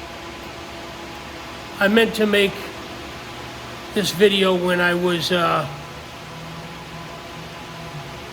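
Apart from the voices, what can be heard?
greenhouse fans running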